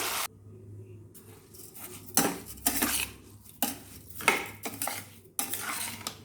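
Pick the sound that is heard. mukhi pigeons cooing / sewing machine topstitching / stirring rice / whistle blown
stirring rice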